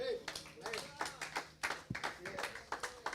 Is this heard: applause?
yes